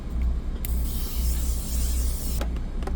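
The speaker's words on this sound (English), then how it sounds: "this setting spray is tea" A steady hissing spray of L'Oréal makeup setting spray lasts a couple of seconds, close and fairly loud, followed by a few short clicks.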